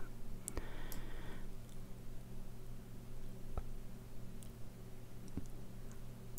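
A computer mouse gives a few sparse, faint clicks at irregular intervals over a steady low electrical hum.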